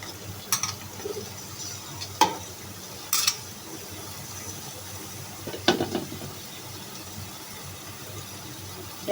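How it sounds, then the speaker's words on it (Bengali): Bottle gourd pieces being stirred into fried spice mix in a pan, a low sizzle with a few distinct scraping and clattering stirs spaced apart, fairly faint and without talk. "এখন মশলার সঙ্গে লাউগুলিকে ভালোভাবে নেড়ে চেড়ে মিশিয়ে দেব"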